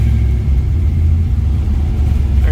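A 1967 Chevrolet Camaro restomod engine turns over on a cold start, a loud, close rumble with a steady low throb and a slight rise near the end, no talking.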